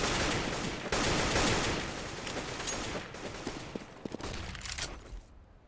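Shotgun fire from Nova and MAG-7 weapons in a Counter-Strike esports match, a dense stretch of loud overlapping blasts and gunfire that thins into scattered sharp shots near the end.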